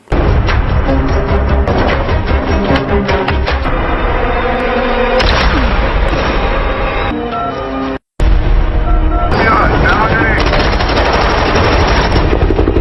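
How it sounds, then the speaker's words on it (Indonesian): Loud bursts of gunfire from a film action scene, rapid volleys mixed with dramatic score and impacts, with a brief silent gap midway. "tembakan barusan tidak benar-benar mengenainya"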